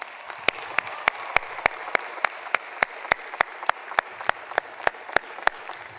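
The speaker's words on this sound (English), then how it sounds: "Class of 2019, let's show them your appreciation with a round of applause." At the UNC-Chapel Hill 2019 spring commencement ceremony, a large crowd applauds faculty with a soft, distant sustained wash, punctuated by sharp, regularly spaced claps from one nearby pair of hands.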